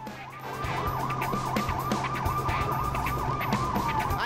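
Wailing police sirens in the video game Lego City Undercover sweep up and down continuously over a steady engine rumble, loud and close throughout.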